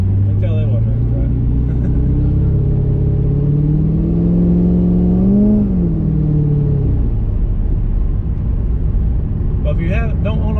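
A cammed C6 Corvette engine rumbles loud and close from inside the car, its choppy idle climbing in a rev and falling back, with people talking over it.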